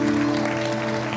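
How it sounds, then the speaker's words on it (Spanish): A quinceañera party crowd applauds for the birthday girl's mother, a dense wash of clapping over steady music. "Fuerte el aplauso."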